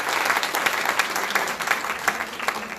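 A conference audience applauds the committee team members at a closing ceremony, steady, moderately loud clapping from a crowd throughout.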